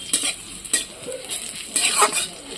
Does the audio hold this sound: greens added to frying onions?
yes